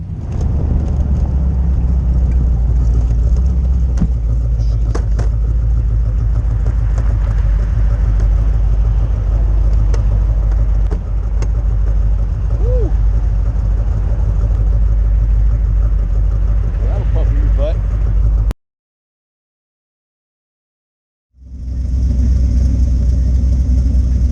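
A 1929 Ford Model A street rod drives along with a loud, steady low engine rumble heard from close range. A brief silent gap is followed by the engine returning.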